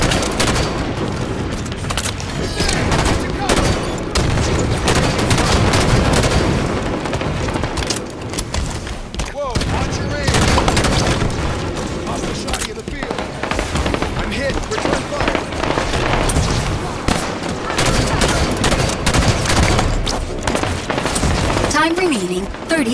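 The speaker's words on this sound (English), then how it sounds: "Enemy fire." Rapid gunfire and explosions from a Halo 5 Big Team Battle capture-the-flag match on the Voyager map, dense and continuous bursts of shots and booms that stay loud throughout, with announcer voice lines in between.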